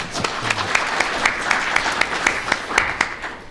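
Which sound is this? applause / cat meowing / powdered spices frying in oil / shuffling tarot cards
applause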